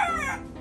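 A person imitates a chicken call near hornbills, a short, close, squawking vocal burst with wavering tone, loud and alone.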